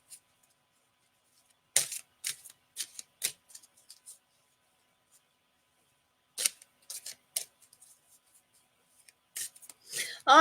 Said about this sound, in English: So Tash, Pinto, I am going to get you a card there, darling.